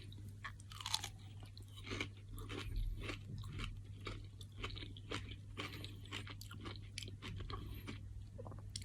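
Crunchy Dubai chocolate with walnut is chewed close to the mic in repeated crisp, irregular crunches and bites, with no talk during the chewing.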